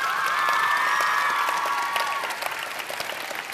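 A conference audience at a space event gives a round of applause, a dense burst of clapping with some cheering that fades gradually toward the end.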